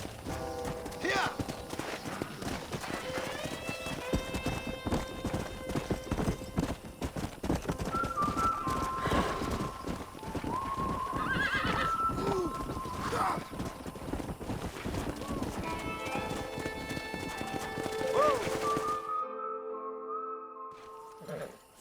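Horses in the Western video game Red Dead Redemption, with steady clip-clop hooves and occasional whinnies over game music and ambience, while a voice speaks in places.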